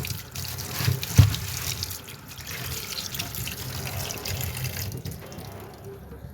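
Tap water runs in a sink while fish are washed with salt and turmeric, a steady splashing stream with a few louder clunks and splashes near the start, close by and without talk.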